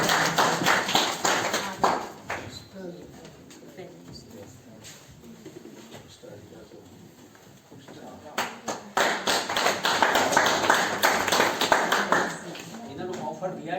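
Audience at an international scholars' gathering in a hall in Narnaul applauds loudly in two bursts, dense clapping at the start and swelling again later, with a speaking voice in between.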